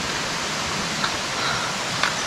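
Rushing water of a mountain stream in the Achimgari valley in Korea: a steady, dense wash of flowing water, fairly close and continuous, with a few faint higher splashes on top.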